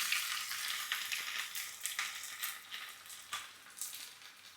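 Steady, hissing sizzle of small onions frying in hot oil for tempering dal, with occasional crackles and faint stirring scrapes, close and continuous, with no voices.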